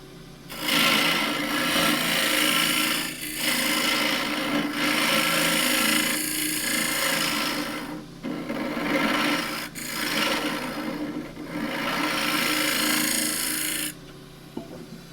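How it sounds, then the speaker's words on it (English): Abrasive sanding on a spinning banksia wood bowl on a lathe, a loud steady rasping hiss in long strokes broken by brief pauses. "Feels fine, so that gets sanded."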